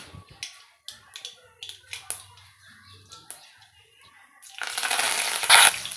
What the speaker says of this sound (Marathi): इकडे जिरे मोहरी टाकून घेतलेले आहेत